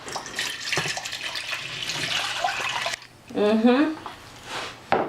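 Two cups of water pour steadily from a measuring cup into a pan for a few seconds, a bright hissing splash, then a brief voice chimes in afterward.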